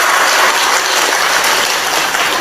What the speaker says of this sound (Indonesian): Tepuk tangan ra apa-apa